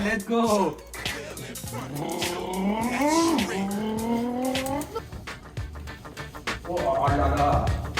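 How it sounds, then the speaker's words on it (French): An engine fitted to a wheelchair converted into a race car revs up and down in rising and falling sweeps with tire squeals and clatter, loud and close, then cuts off before a final burst. "essaye le moteur"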